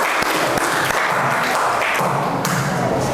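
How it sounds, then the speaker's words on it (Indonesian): Classroom applause for a student, a steady mix of clapping with a few thumping hits, close and fairly loud for about three seconds. "Ya, kita tepuk tangan buat"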